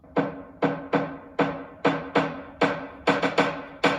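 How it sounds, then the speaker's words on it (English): A future bass build-up made in Logic Pro X, in the style of Illenium: punchy, evenly spaced synth hits that repeat about nine times and crowd closer together toward the end, with no voices. "we're gonna bring in a build up"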